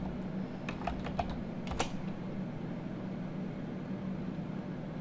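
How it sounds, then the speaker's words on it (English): A short burst of keystrokes on a computer keyboard types a server address, a quick cluster of soft clicks over a low steady hum, faint and close. "So we'll go up here, type in our server's address."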